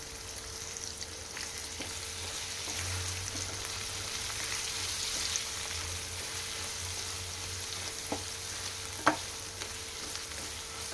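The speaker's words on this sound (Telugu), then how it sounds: "మిల్ మేకర్ ఇలా కొద్దిగా కలర్ మారే వరకు ఫ్రై చేసుకోవాలి" Meal maker soy chunks fry in a pan with turmeric and ginger-garlic paste, giving a soft, even sizzle with a few light stirring clinks, close and unbroken by speech.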